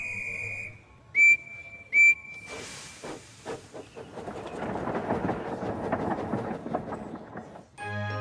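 Two short, shrill train whistle blasts ring out, followed by a burst of hissing steam and the rising chuff of a train pulling away.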